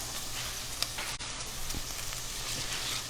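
Garlic sizzles steadily in a hot pan for a pasta puttanesca, a constant close crackling hiss with a brief stirring clatter partway through.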